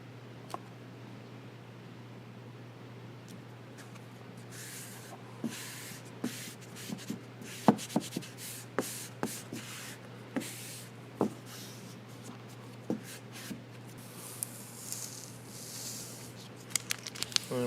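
Backing paper peeled off a vinyl mud splatter graphic on a Ford Bronco gives a faint, ongoing crinkle with scattered soft ticks and small tearing snaps, close by with no talk.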